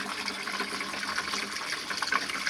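Water runs steadily from a water dispenser during its weekly flush-through, a continuous close gushing hiss with no pauses.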